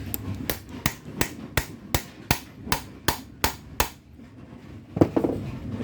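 Repeated metal hammer blows drive a shaft collar onto the front roller shaft of a GS Series bowling pinsetter, about a dozen sharp, evenly spaced strikes close by, then a pause and a few clanks.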